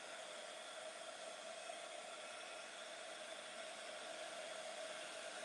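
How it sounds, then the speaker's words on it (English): A heat gun blowing hot air over watercolour paper gives a constant, even broadband whoosh with a faint tonal whine, steady and close throughout with no voices. "you want to keep your heat gun moving so you're not burning your surface"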